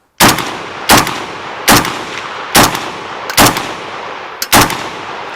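A Century Arms C9V2 rifle fires six loud, sharp shots at roughly even intervals, each crack followed by a short ring, with the last two coming close together.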